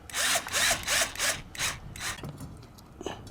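A power tool drives screws into a replacement circuit board for an Atwood Hydro Flame RV furnace, giving five or six short whirring bursts close by, then quieter scattered clicks and handling noise.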